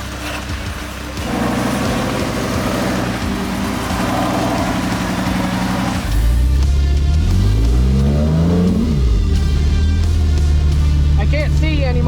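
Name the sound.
Jeep JKU engine revving on rock trail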